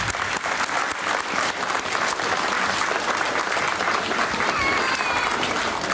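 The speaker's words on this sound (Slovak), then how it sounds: "Privítajme našich prvákov veľkým potleskom." A school hall crowd gives sustained, dense applause to welcome the new first-grade pupils at the opening of the school year, loud and even throughout with a faint murmur of voices beneath.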